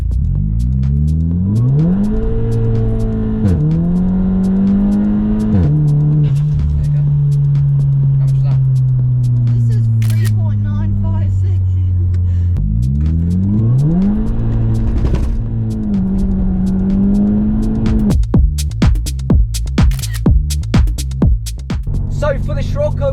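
A Volkswagen Scirocco launches hard from a standstill, its engine revving up through the gears in rising sweeps with shift pauses, loud and close, before rapid popping bursts near the end.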